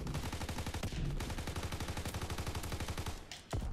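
Rapid automatic gunfire from the shooter game Call of Duty: World at War II, a fast even stream of loud close shots rattling on for several seconds before cutting off near the end.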